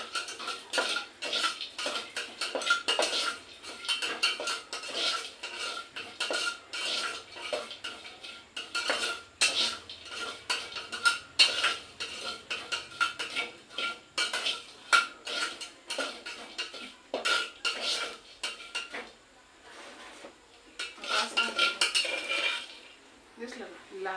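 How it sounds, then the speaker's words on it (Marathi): Cashews and almonds are stirred while roasting in ghee in a metal pan, giving a steady run of close scraping, clinking and rattling strokes for the whole stretch, with no voices. "आता याच्यात काजू बदाम टाकून हे पण भाजून घ्यायचं"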